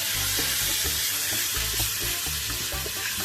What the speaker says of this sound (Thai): ใส่มะเขือเทศลงไปนะคะ ใส่มะเขือเทศแล้วก็คนให้เข้ากันนะคะ